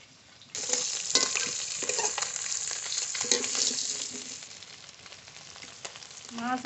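Koi fish frying in hot oil in a pan, a dense, close sizzle and crackle that swells and fades, with occasional sharper spatters and a utensil knock near the end.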